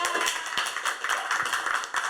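A small crowd applauds a newcomer named Sophie at an informal community talk event, dense steady clapping throughout, fairly loud and close, with a voice faintly mixed in.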